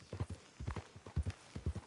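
Horse hooves clip-clopping at an even walking rhythm in a Western video game set around a frontier town's stables, moderately loud and close, with no talking.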